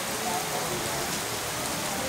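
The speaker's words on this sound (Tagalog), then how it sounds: "Umulan na." Steady rain falls on surfaces outdoors at a scenic bathing spot in Naic, Cavite, a continuous even hiss with no distinct drops standing out.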